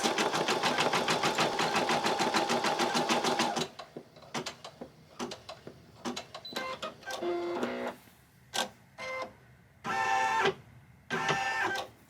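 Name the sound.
embroidery machine stitching a bunny treat bag design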